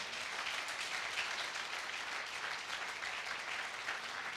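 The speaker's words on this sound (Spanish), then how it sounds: "al cual te pido un aplauso en esta mañana" A church congregation during a sermon applauds in a continuous, even wash of clapping from many hands, steady throughout at moderate level.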